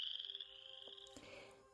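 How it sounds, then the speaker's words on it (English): A chorus frog calling at a vernal pool, a faint, close, rapid rasping trill that fades after about a second, followed by a few soft clicks and quieter background calls, with no talking. "keep an ear out for the creak or sound of a finger running along a comb, and you might just find a chorus frog."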